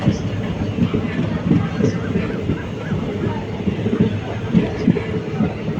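A passenger train runs from Tenkasi toward Tirunelveli, its steady rumble and rolling wheel clatter filling the space close and loud throughout, with no voices over it.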